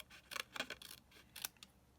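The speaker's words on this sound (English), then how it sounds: "let me grab the scissors. I'm just going to cut this in half." Scissors snip through a piece of stamped paper card in a crafting session, a quick series of crisp, close cuts with short pauses between them, quiet and without talk.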